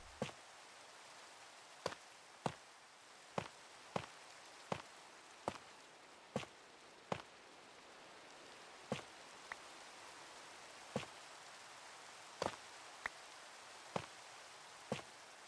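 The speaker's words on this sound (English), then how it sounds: "That's the first time it's rained on the server today." Rain falls in the video game Minecraft as a soft, steady hiss, punctuated by sharp, evenly spaced clicks every second or so, with no talking.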